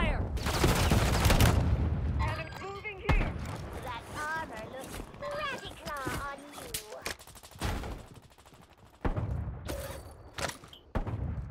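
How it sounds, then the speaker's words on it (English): Gunfire in the video game Call of Duty, with loud bursts of shots at the start and near the end, and a voice talking in the middle. "Taking fire!"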